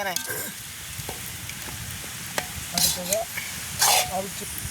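Curry with curry leaves stirred and fried in a pan outdoors in a village kitchen, a steady close sizzle broken by scraping strokes and a few sharp hissing bursts.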